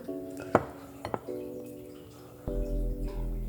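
Brownie batter for Oreo brownies is folded in a bowl, with a couple of spoon-on-bowl clinks and soft scraping, close and moderately loud, over a steady background hum.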